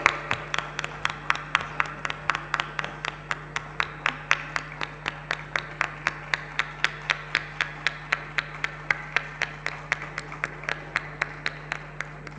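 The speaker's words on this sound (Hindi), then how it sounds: "जोरदार तालियों से अभिनंदन करिए।" Rhythmic, steady clapping from an audience at a prize distribution ceremony, evenly spaced claps continuing throughout over a constant background hum.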